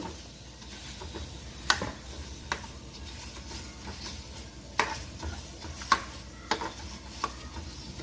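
Fenugreek seeds fry in hot oil, giving a faint, steady sizzle with occasional sharp stirring clicks against the pan. No one speaks.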